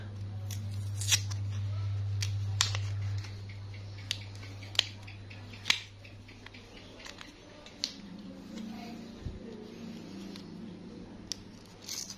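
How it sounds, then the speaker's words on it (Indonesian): A battery package being torn open for a keyless remote battery swap on a Honda Vario 150, with a steady hum underneath and a scattering of sharp crinkling snaps and rips spread across several seconds, close to the mic. "kita buka satu dulu ya nah kita sobek kita sobek aja"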